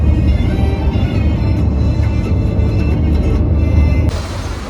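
Busy street traffic in Medina, Saudi Arabia, with buses and cars: a dense, continuous low rumble of engines and road noise, loud and close, without any pauses.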